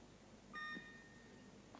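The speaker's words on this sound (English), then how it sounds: "Oh, there's the 30-second buzzer." A short electronic buzzer tone sounds at a 105 kg weightlifting competition at the 2005 World Weightlifting Championships. It comes as one brief, faint beep in an otherwise quiet arena, with no talk.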